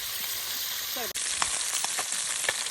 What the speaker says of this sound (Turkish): Çıtır çıtır soğanlı kızartma oldu bu.